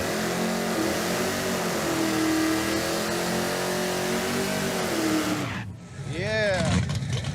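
A muscle car engine with freshly changed carburetor, new spark plugs and a raised rev limiter revs loudly and steadily up close, pitch climbing then falling as it drops off the throttle near the end.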